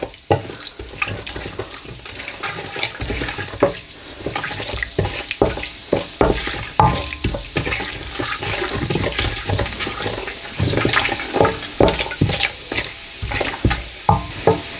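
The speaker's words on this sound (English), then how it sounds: "I'm going to throw in my whole spices and my coriander powder as well, and just lightly fry that for a couple of seconds" Whole spices and coriander powder frying in hot oil in a pan for chicken pilau, a steady close crackle and sizzle with scraping stirring strokes running throughout, no talking.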